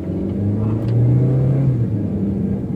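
The engine of a basic Honda Freed Facelift S rumbles as it accelerates from close inside the cabin, its pitch rising and then dipping as it shifts from first into second gear.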